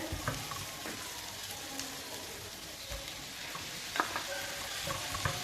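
Onions and chopped tomatoes frying in a pan, a steady sizzle running throughout with scattered clinks and scrapes of a spoon stirring, close and moderately quiet, no voices.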